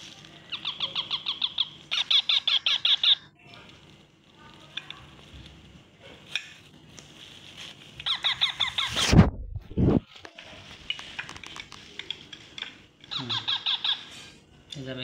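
Pet birds squawk and chirp in rapid, repeated bursts close by as they are hand-fed, with short pauses between the flurries of calls and a loud rustling scrape midway.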